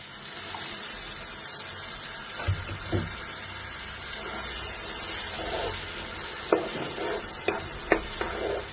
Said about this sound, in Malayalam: നമുക്ക് ഈ തക്കാളി അരച്ച് വെച്ചിട്ട് ഇതിലേക്ക് ഒഴിച്ചെടുക്കാം.